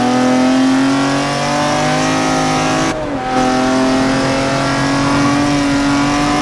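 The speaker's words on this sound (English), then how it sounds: "This is the first Ferrari F1 car." Engine of the first Ferrari F1 car in a racing video game, a loud, steady high-pitched drone with a brief dip in the middle before the tone resumes, held close and continuous.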